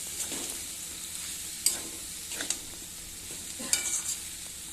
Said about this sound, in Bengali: ভালো করে এবার কষাবো মশলা আর এঁচড় একসঙ্গে কষাবো